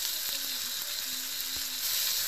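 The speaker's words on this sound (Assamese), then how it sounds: "আদা, নহৰু আৰু পিঁয়াজ ভালদৰে ভাজি ল'লোঁ" Ginger, garlic and onion fry in a hot pan with a steady, bright sizzling hiss throughout, with a few faint clicks and light stirring taps underneath.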